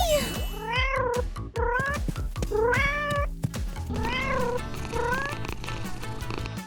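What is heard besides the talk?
cat meowing in a cartoon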